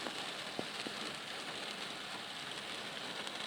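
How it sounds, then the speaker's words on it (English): Rain falls steadily outdoors as an even, hissing patter with a few distinct drips, heard alone without speech. "so you can see it's raining"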